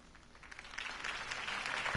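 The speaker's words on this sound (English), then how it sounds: "could have heard that applause" Crowd applause following a campaign speech in the Batman Telltale video game, a broad wash of clapping that swells gradually and grows louder toward the end, with no voices over it.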